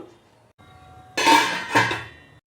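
A metal lid clanks onto a pot of mushroom gravy being brought to a boil, with a sharp clatter followed by a second, lighter rattle in a quiet kitchen.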